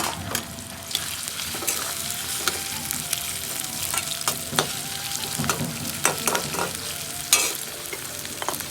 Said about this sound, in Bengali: কুচিয়ে রাখা কিছুটা টমেটো দিয়ে দেবেন।